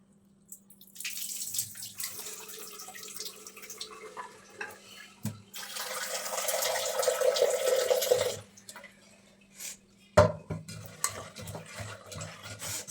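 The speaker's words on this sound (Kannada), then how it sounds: "ನೀಟಾಗಿ ನೆಲ್ಲವರೆಕಾಯಿ ಮತ್ತು ಕಾಳು ಎರಡನ್ನು ತೊಳ್ಕೊಂಡು ಕುಕ್ಕರಲ್ಲೇ ತೊಳ್ಕೊತಿದ್ದೀನಿ" Field beans and seeds are washed with water inside a pressure cooker, with bursts of running water and swishing, sloshing stirring separated by quieter pauses and a few sharp knocks against the metal pot.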